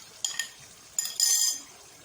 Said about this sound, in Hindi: अब हम इसमें दही ऐड कर देंगे